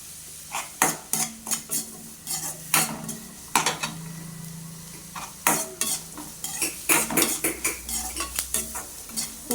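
Curry leaves sauté in a pan for curry-leaf rice, a spatula scraping and clinking against the metal in repeated strokes over a steady low sizzle, close and fairly loud with no voices.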